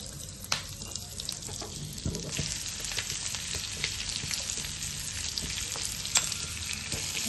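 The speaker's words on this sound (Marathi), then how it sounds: "थोडीशी हळद पावडर आणि ह्या मिरच्या त्याच्यात सोडायच्या." Green chillies with turmeric powder frying in hot oil in a pan, a steady close sizzle with occasional crackles and stirring scrapes throughout, no voices.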